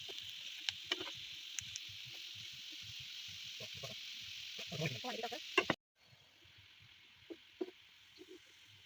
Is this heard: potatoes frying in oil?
yes